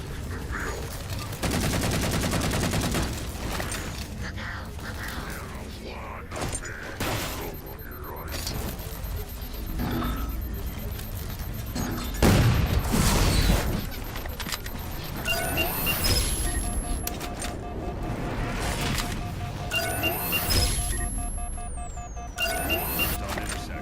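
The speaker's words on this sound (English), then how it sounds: "Target those phantoms for the railgun to shoot down." Halo game battle with a railgun firing on Phantom dropships: bursts of gunfire and heavy blasts over a continuous rumble, with some game voices over the combat.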